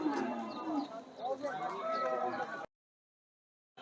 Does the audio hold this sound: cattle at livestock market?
yes